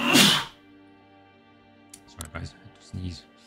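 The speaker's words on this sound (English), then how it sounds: "Sorry, guys, I had to sneeze." A single sharp, loud sneeze bursts out up close at the start. Quiet follows, then someone speaks briefly.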